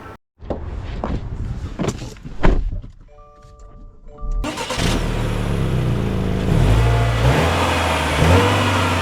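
A 2025 Subaru Outback Touring XT: a few clicks and thunks, a brief chime, then the engine cranks and catches, settling into a steady mid-pitched hum as the car moves off.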